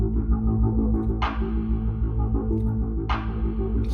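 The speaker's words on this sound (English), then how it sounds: "you can hear how there's a little bit of reverb on the clap" Clap sample with a short reverb tail hits twice, about two seconds apart, in an electronic music intro over a steady synth bed and bass.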